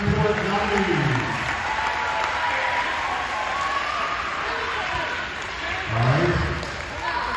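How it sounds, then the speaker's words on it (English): A school homecoming crowd applauds the court nominees with dense, sustained clapping and some cheering, loud and continuous, while someone speaks briefly over it. "Let's have a big round of applause for all of our homecoming court nominees."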